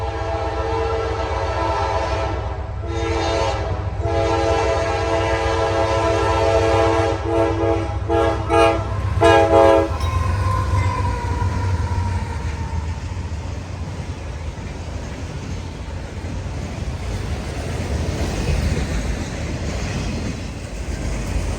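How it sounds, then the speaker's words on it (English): A Florida-bound autorack freight train, just released from Rice Yard and Waycross, passes at Folkston with a long, loud multi-tone horn blast for about ten seconds, followed by steady rumbling and rolling of the cars. "Kicking off the festivities is this Florida-bound autorack train, freshly released from Rice Yard and Waycross."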